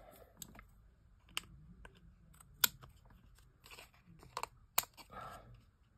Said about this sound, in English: Let me cut off the excess